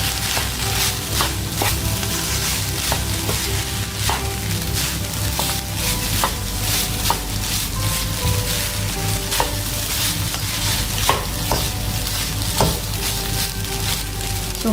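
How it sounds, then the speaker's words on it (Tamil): A spoon scrapes and clinks against a hot pan as vegetable fried rice with crushed pepper is stirred and mixed. Steady frying sizzle runs throughout, with regular tapping strokes close by and no talking. "நல்லா மிக்ஸ் பண்ணி விட்டுடலாம்."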